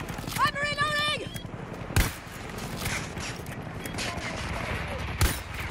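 Gunfire in a first-person shooter video game: a couple of sharp isolated shots stand out over a steady bed of game noise, with a rising tonal sweep early on, while players talk and shout.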